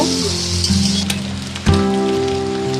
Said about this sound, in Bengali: এবার পেঁয়াজ লঙ্কা ভেজে নেব